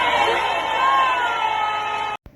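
A crowd applauds and cheers for a school environmental ambassador, a dense, loud, steady wash of clapping lasting about two seconds, then cutting off abruptly.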